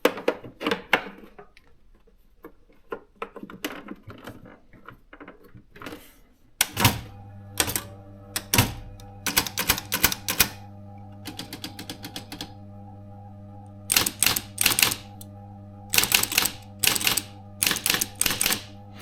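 Brother electric typewriter typing: scattered light key taps first, then the motor hum kicks in with loud, crisp strikes arriving in fast bursts and pauses, close to the machine.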